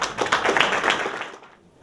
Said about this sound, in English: So round of applause for Laurie.